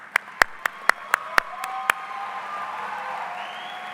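At a college commencement ceremony, about eight sharp, separate claps ring out at a steady pace and stop after two seconds. Soft crowd murmur and a faint voice follow.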